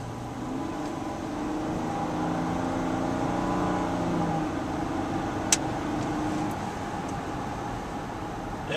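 A 2011 Toyota Highlander driving and accelerating in traffic, with a smooth, quiet engine hum and road noise that rises gradually, heard from inside the cabin with no talk.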